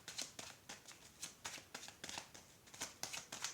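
Tarot cards being shuffled, with a steady run of quick riffling bursts close by, repeated again and again without pause.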